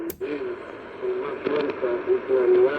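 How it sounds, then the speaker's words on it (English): Shortwave international broadcast signal received on a Sangean ATS 818 radio, a faint, noisy transmission with a wavering carrier tone and fading voice under static, briefly preceded by a tuning click. "Oh, sounds like international broadcast signal."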